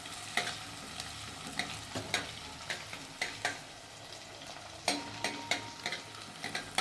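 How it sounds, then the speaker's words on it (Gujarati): Onion, ginger and garlic fry in oil in a pan for a Kathiyawadi chapdi shak gravy, a steady close sizzle broken by regular scraping strokes of a stirring spoon, with no voices. "આ બધું આપણું તતળાઈ ગયું છે ડુંગળી આદુ લસણ બધું"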